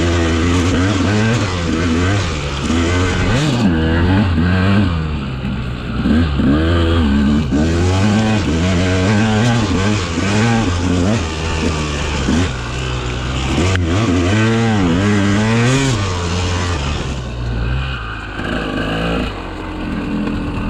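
A KTM 200XC two-stroke dirt bike is ridden hard, its engine repeatedly revving up and dropping off in rapid surges, loud and close throughout.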